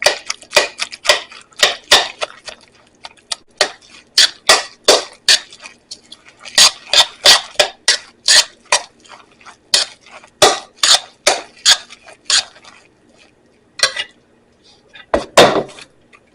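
Squash fritter batter mixed in a bowl with a utensil: sharp, rhythmic clinking and tapping strokes, close and fairly loud, coming in quick bursts with short pauses in between.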